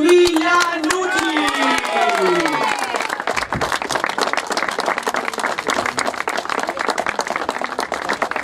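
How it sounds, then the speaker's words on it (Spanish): Crowd applause and cheering for the top finisher at a podium ceremony of the Juegos Bonaerenses 2022, a dense wash of clapping that carries on steadily after an announcer's voice over the opening seconds. "un fuerte aplauso para Mateo Villanucci"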